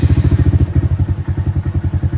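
A Honda Grom motorcycle engine runs close by with a loud, rhythmic, lumpy idle thump, pulsing evenly throughout with no clear rise in revs.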